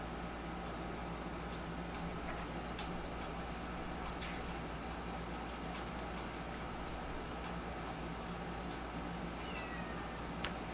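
A male cat meows a few times indoors over a steady low rumble that could be purring, with faint ticking in the background; no one speaks.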